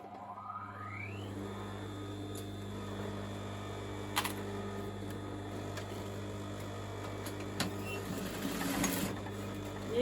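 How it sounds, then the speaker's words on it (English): A sewing machine stitches gathered fabric over a constant low motor hum. The stitching runs continuously and fairly quietly at close range, with a couple of brief sharp clicks. "So I'm going to stitch them on here"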